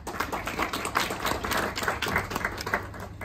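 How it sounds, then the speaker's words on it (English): Audience at a gathering welcoming the Barbados representative to the United Nations at Nairobi with applause, a moderate, uneven patter of hand claps from a modest crowd, fairly distant and soft. "A round of applause."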